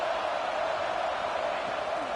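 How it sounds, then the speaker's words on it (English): Football stadium crowd at a Vanderbilt versus Tennessee game, a dense, steady roar that fills the space and holds loud throughout with no clear peaks. "this crowd is turning it up a notch"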